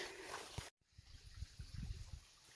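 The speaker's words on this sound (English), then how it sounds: "So this is one of the crossings of Boulder Creek right here," Boulder Creek trickles at a trail crossing in Arizona, a soft continuous babble of shallow water with small gurgles, heard close and fairly quiet, briefly cut off early before resuming.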